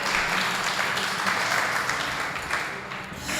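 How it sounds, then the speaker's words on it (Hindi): Audience at an evening religious study session led by a Jain monk claps loudly and steadily, a dense continuous applause that fills the room without pause. "जोरदार ताली बजाओ"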